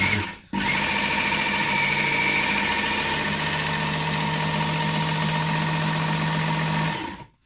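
A Work Sharp Ken Onion Edition knife sharpener with grinder attachment, running as a belt grinder, whirs steadily with a high, even whine and buzzing hum after a brief start, sounding slightly off, then winds down at the end.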